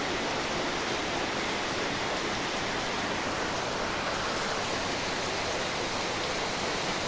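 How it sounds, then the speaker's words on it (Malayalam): Steady, dense rushing noise of heavy rain and rising floodwater, constant and unbroken throughout with no voices. "സൂപ്പറായിട്ട് വെള്ളം ഇങ്ങനെ ഉയർന്ന് വരികയാണ് അത്രയും മഴ മഴ നിൽക്കുന്നില്ല"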